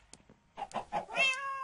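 Cat meows in a video game, a few short soft mews building to a longer, louder tonal meow at the end, heard alone over a quiet background.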